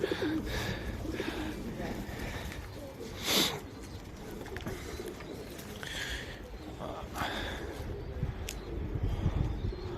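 Soft, repeated pigeon coos drift in over steady wind and outdoor noise, with one louder burst partway through.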